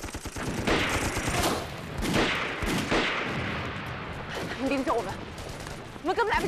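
Bursts of gunfire in a wartime sniper battle crack and rattle in rapid volleys, with shouted voices breaking in between the shots.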